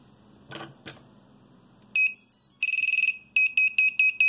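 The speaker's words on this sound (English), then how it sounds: "That buzzer is very, very loud." Sharp, piercing electronic buzzer tones blare on a prototype build, first a short burst, then a sustained tone and a series of evenly spaced loud beeps, following a couple of faint handling knocks.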